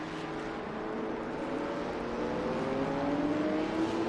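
Race cars at Circuit of The Americas in Texas roar through the final corners, a sustained engine whine rising in pitch as they near, loud and continuous without talk.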